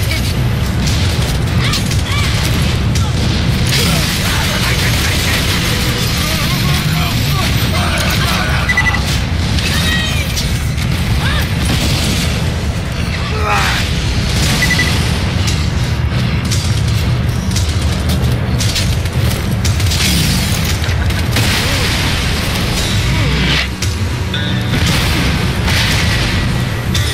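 Grenade explosions in Borderlands 2, a constant loud barrage of booms, crashes and weapon fire running the whole time with little letup, with a player shouting over the din.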